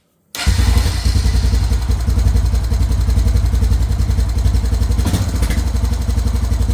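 A Honda ATV engine idles steadily and close by, a continuous low rumble with a fast, even pulse and a faint mechanical clatter, running alone after a sudden start with no voices.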